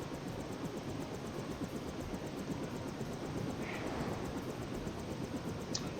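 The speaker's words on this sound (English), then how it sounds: "Yeah, where did this chopper come from?" A helicopter in the Deus Ex video game gives a steady, loud, broadband whirring rotor and engine roar that continues unbroken throughout, with no talk over it.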